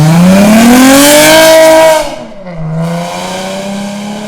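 An Infiniti G35 accelerates hard in a pull, its engine revving loudly and rising steadily in pitch, then dropping sharply at a shift before pulling again.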